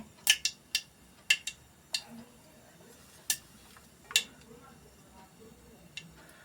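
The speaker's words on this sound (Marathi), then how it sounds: "तेल घालून फोडणी घातलेलं आहे" Spices tempering in hot oil for a fresh pea curry: scattered sharp crackles and pops, faint and irregular, spaced through a quiet background.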